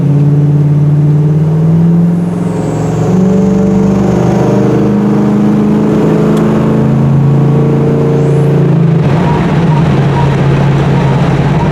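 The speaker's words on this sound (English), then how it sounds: "Those injectors are tapping like mad, like mad." Car engine idling steadily after a carburetor-to-Sniper EFI fuel injection conversion, a loud continuous low hum with a fast ticking tap from the injectors and a slight shift in tone near the end.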